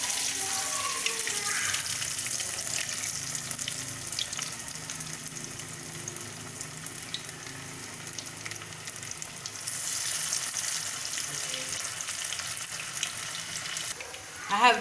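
Masala vada batter patties fry in hot oil with a continuous bubbling sizzle, joined by a running tap and splashing water in the middle stretch, then brief clatter at the end.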